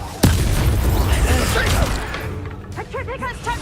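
An Incendio fire spell in Hogwarts Legacy lands with a sudden loud boom, followed by a crackling, roaring burn that fades, while a voice speaks over the end.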